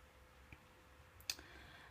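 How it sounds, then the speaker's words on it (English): A computer mouse clicks once, a sharp, quiet close click against a faint room hum. "So I'm gonna click here."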